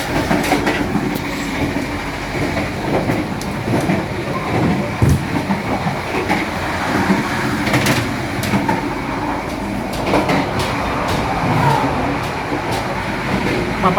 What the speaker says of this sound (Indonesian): Papasan dengan kereta api Argo Sindoro dari stasiun Semarang Tawang hingga tujuan akhir stasiun Gambir.